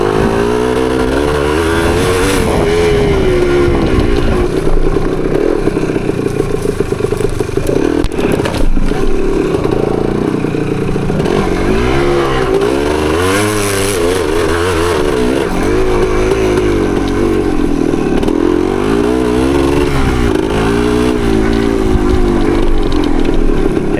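A 1975 Yamaha DT250 trail motorcycle revs hard climbing a hill, its two-stroke engine loud and close, rising and falling in pitch continuously with some rattling and sputter throughout.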